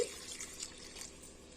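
Water poured into a simmering masala curry of kandikaaya (pigeon peas) in a pan, a soft steady splashing trickle with faint droplets, quiet and close, no voices.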